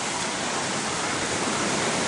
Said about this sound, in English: I just see the waterfall down there